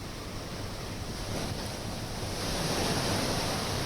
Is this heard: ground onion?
no